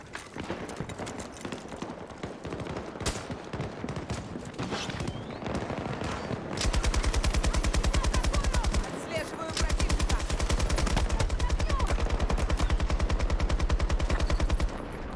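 Gunfire in Battlefield 2042 rattles in fast, sustained bursts that grow louder and denser partway through, with a brief pause before the rapid shots resume.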